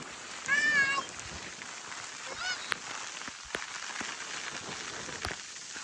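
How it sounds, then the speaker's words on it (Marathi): Constant soft patter of heavy rain on surfaces at a high viewpoint in Mahabaleshwar, with a brief cat-like meow early on and a few sharp knocks scattered through. "खूप पाऊस चालू आहे"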